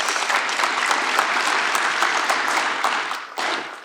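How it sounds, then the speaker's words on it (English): A sports league audience at a Canadian NSL event claps steadily and densely for nearly four seconds, the applause dipping briefly near the end before a final burst. "So please, everyone, give yourselves a round of applause."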